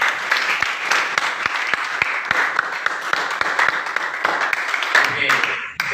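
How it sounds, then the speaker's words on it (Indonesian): A classroom of students applauds, with a steady burst of many hands clapping nearby and some voices mixed in, ending abruptly after several seconds. "Tepuk tangan."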